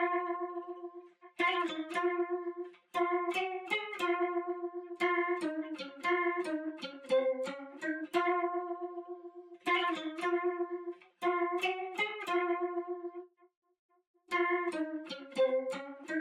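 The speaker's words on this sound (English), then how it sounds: "And that's all I did for this guitar lead, which sounds like this." A pitch-shifted, chopped guitar lead sample from Splice plays a bouncy, stuttering melodic phrase of short plucked notes in repeating bursts, with brief pauses between them and no voices.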